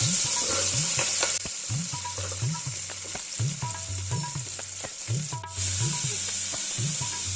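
Green chilli and onion frying in hot oil for brinjal gravy, a constant close sizzle broken by a regular rhythm of spoon scrapes and stirs, about once every second.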